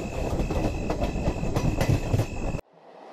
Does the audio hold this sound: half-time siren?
no